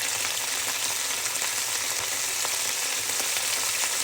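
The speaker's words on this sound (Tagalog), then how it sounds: "lagyan natin ng konting soy sauce at ng konting oyster sauce" Beef stir-frying in a pan with soy sauce and oyster sauce gives a steady, close, bright sizzle that runs unbroken without any talk.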